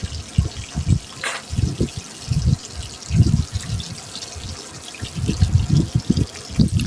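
Stuffed pointed gourds (parwal) are added one by one to hot oil in a village kitchen, producing uneven bursts of crackling and bubbling sizzle, moderately close.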